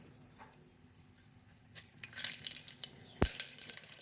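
Mustard seeds and lentils for a tempering are dropped into hot oil for a spine gourd curry, hissing and sizzling with a soft crackle that swells halfway through, with a sharp close clink near the end.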